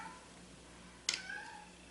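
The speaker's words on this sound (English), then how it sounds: "that's my cat" A pet cat lets out a single short meow midway through a quiet room, fairly faint and slightly distant, with a faint tail fading out after it.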